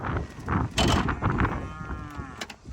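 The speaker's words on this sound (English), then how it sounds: "Oh, here's the cows." Cattle on a farm with steers and Highland cows, including a close, loud drawn-out moo with a wavering tone, mixed with rustling and a few knocks.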